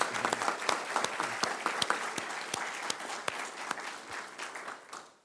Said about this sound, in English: I would like to ask that we give a round of applause to the wonderful administrative team